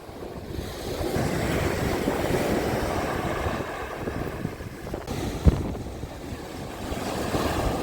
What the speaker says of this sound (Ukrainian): Красиве, хвилююче морічка наша.